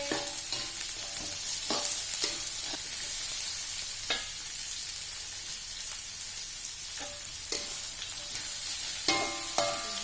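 Green beans stir-fry in a hot pan, a constant crackling sizzle broken by repeated spatula scrapes and clacks at irregular intervals, close and with no voices.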